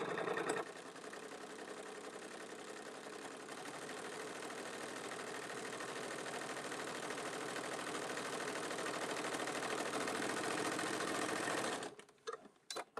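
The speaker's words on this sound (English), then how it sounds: "Now I'm just going to go back and place a top stitch here using my presser foot right along the edge of the handle as a guideline" A sewing machine runs steadily for about twelve seconds, top stitching along the edge of a tote bag handle with a lengthened stitch, a continuous whirring hum that stops with a few brief clicks at the end.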